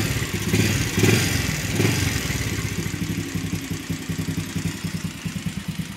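A Honda TRX 90 ATV engine runs close by, a clattery idle with rapid, evenly pulsing beats after a couple of brief revs at the start.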